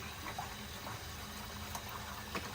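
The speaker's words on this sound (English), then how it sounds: "Just filling this up with water right here." Water pouring into the reservoir of a Keurig K-Duo coffee maker, a faint, continuous splashing trickle with small gurgles, quiet and steady from start to end.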